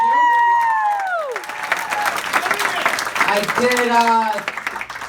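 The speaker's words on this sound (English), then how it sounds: "Keep clapping." An audience claps and cheers in a loud, sustained burst of applause with whoops and shouts, while someone speaks over the noise.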